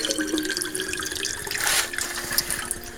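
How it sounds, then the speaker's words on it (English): Aquarium water drains into a sink with a steady rushing, splashing flow that holds level throughout, swelling briefly near the middle, with no voices. "here the water is draining into the sink"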